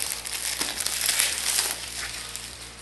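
Polythene wrapping is torn and crinkled off a Xiaomi Redmi Note phone box, a close, continuous rustle of plastic with small crackles for a few seconds and no talk.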